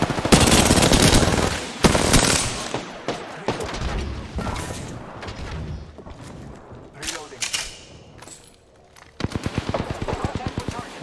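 Rapid automatic gunfire in the Apex Legends video game, loud bursts of shots rattling in fast volleys with brief pauses, a player's voice talking over the fight.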